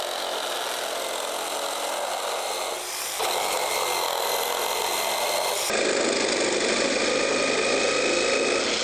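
A Keyang 16V cordless mini reciprocating saw fitted with a fine-toothed wood blade cuts through wood with a steady buzzing motor and rasping strokes. The sound shifts in tone partway through and grows slightly louder toward the end.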